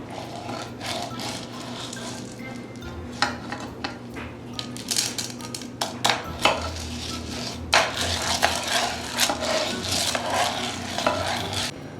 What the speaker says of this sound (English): Now mixing